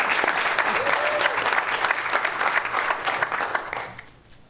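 Applause from the attendees of a governing board's monthly meeting, a steady dense patter of many hands clapping at close range that fades out over the last half second, with no talk over it.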